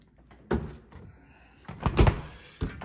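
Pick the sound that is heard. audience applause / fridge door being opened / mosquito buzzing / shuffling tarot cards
fridge door being opened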